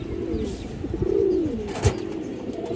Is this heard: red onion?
no